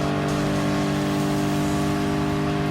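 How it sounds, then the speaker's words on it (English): A Super GT 2008 race car in Gran Turismo Sport holds a loud, steady high engine note with strong sustained harmonics, close and continuous, with no talking. "I just really like that different engine sound"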